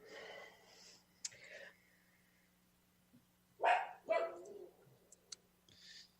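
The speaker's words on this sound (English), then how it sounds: "The dogs agree." Dogs bark in a few sharp bursts in a room, with a short loud pair of barks in the middle and fainter yips and noises around them.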